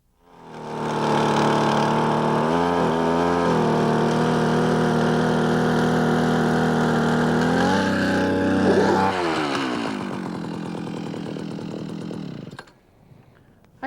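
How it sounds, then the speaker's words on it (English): A StrikeMaster power auger with a 2 horsepower motor drills through lake ice on a reservoir, a loud, close, buzzing two-stroke roar that holds steady, dips in pitch under load, then winds down and stops. "this StrikeMaster power auger is just a great unit. It's got a 2 horsepower motor"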